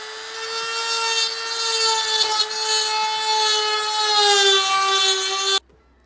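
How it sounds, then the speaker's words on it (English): A hole saw grinding steadily through a car part during a short shifter install, a loud continuous whining rasp lasting several seconds before cutting off abruptly. "I love to try and put a hole saw through it."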